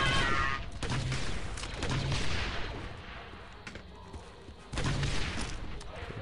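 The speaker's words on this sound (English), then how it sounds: "Look out, it's a missile turret." Missile turret fire and explosions in the Star Wars Republic Commando video game, with dense, loud bursts of gunfire and blasts that recur across the stretch and swell again near the end.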